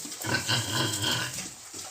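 Newborn piglets grunt in a farm pen soon after farrowing, a dense, muffled rumble of overlapping snorts that runs steadily through the moment with no talking.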